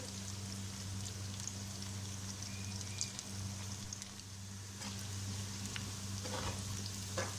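Ingredients for mutton karahi frying in a pan: a continuous, even crackling sizzle with a steady low hum underneath, a few louder pops, no voices.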